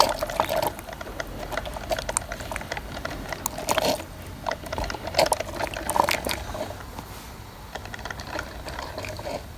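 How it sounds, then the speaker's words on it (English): Water dripping and trickling inside a Walmart drip coffee maker that had not been dripping before the fix, irregular close drips and small splashes over a low running gurgle. "Check it out, it's dripping."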